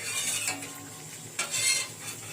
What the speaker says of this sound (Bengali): আস্তে আস্তে নাড়তে থাকবেন।